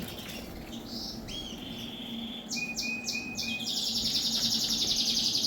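Young birds in aviary flights chirp with thin high calls, first sparse and then in a quick repeated run of notes, over a steady low hum; the calling grows busier toward the end.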